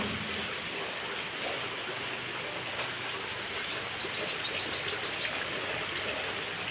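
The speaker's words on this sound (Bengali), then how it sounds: "এই দেখো, আমাদের এখানে সমানেই বৃষ্টিটা হচ্ছে।" Steady rain falls outside during a long morning downpour, a dense, even hiss of drops on surfaces that holds constant throughout without any voices.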